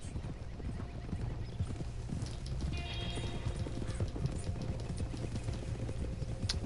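Horse hooves clip-clop steadily at a walking pace while riding in the video game Red Dead Redemption 2, an even rhythmic beat over a soft ambient background with a brief whinny-like tone.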